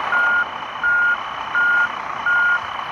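Truck reversing alarm in the Truckers of Europe 3 driving game, at night in Frankfurt: four evenly spaced, loud, steady beeps over a constant engine hum, with no talk.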